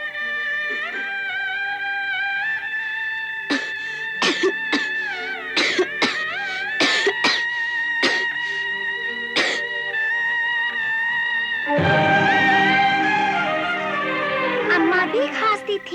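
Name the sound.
coughing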